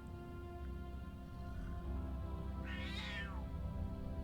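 A cat gives a single short meow partway through, close but soft against a low steady hum, with no talking.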